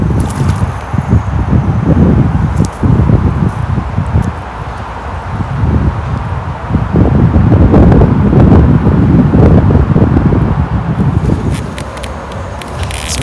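Loud, gusty wind buffets the microphone on a riverbank during a dusk fishing trip. A continuous low roar swells and eases over the whole stretch, with faint rustling underneath and no talk.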